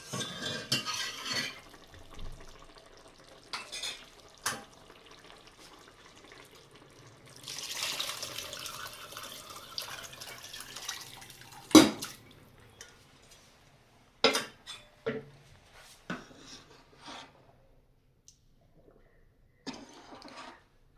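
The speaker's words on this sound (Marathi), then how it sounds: "आता आपण जो स्टॉक काढून ठेवला होता मटणाचा तो आता आपण याच्यामध्ये टाकूया" Mutton stock is poured into a pot of oily masala, making a few seconds of rushing liquid splash among sparse metallic clinks and knocks of utensils against the pot in an otherwise quiet kitchen.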